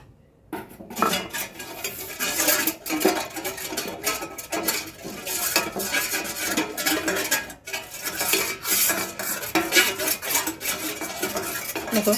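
A metal plate is rubbed with pure desi ghee, giving a loud, continuous rattling and scraping of metal that runs without pause, with occasional clinks standing out.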